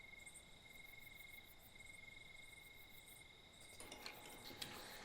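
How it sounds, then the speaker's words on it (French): Crickets chirp at nightfall in a layered rural film ambience, a steady high trill that stays faint and continuous, with faint clinks of dishes and movement near the end. "Il y a des criquets. Une deuxième épaisseur de criquet."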